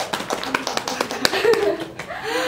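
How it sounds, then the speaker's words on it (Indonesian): Hands clapping as a guest is welcomed onto an Indonesian talk podcast, a scattered burst of claps under ongoing conversation and a voice that keeps talking. "Tepuk tangan dulu dong."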